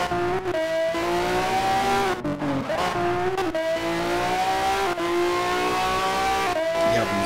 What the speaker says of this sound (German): Der Sound von der Karre hier ist echt übel.